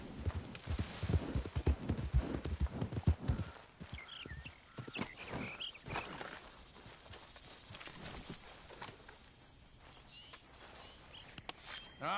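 Horse hooves on the ground in Red Dead Redemption 2, a quick run of clip-clopping steps that is loud at first, then softer, uneven footfalls with faint birdsong in the background.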